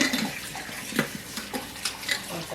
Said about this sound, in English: I rinsed it off.